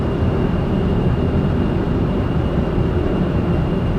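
An airplane drones steadily in the Kerbal Space Program video game, a loud and constant engine roar with no breaks from start to finish.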